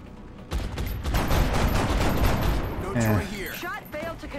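A gunshot in XCOM Long War, a loud burst of rapid fire lasting a couple of seconds that ends in a warbling electronic tone, with a voice speaking over the close.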